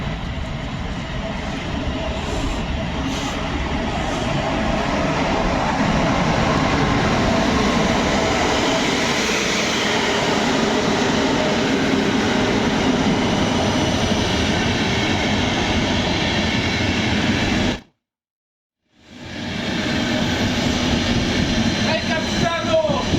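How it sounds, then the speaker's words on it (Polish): A special Tyskie train with wagons rolls through Łowicz Główny station, a loud continuous rumble and clatter of wheels close by for over twenty seconds, with a brief sudden dropout near the end. "Tak, jedą, jadą wagony tyskie."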